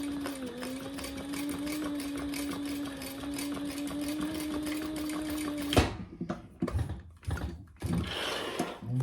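A sewing machine runs steadily, stitching over a second seam on a beginner bag, its motor humming without a break for several seconds before stopping abruptly, followed by a few short handling clatters.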